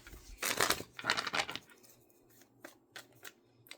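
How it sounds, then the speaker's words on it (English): A deck of tarot cards is riffled in quick crisp bursts up close, followed by softer scattered taps and flicks as the cards settle. "One more shuffle."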